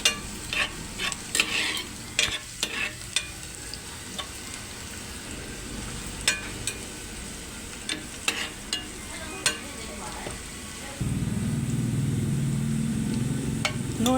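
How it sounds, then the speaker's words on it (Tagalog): Minced garlic and onion sizzle in hot oil in a pan, with scattered scraping stir strokes, then a louder steady frying hiss takes over near the end. "Gisa na tayo ng ating mga aromatics like garlic mince, onion mince."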